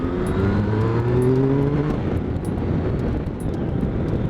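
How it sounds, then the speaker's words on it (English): Triumph Tiger 1050 Sport with its Hinckley triple engine on the road, a loud rising engine whine with climbing tones under heavy wind rush, heard from on board while riding. "you can just hear that lovely whine of that Hinkley triple"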